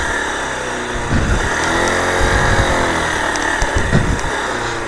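A motorcycle working along a rough off-road riverbed trail in Nepal, its engine droning loud and close with rising revs and throttle surges over about five seconds, no talk.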